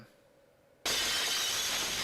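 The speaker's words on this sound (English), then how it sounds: "I like the shattering effect they got there" In the Final Fantasy IV PSP video game, a quiet moment breaks into a sudden, loud glass-like shattering effect that bursts in at once and rings on with a sustained crash for over a second.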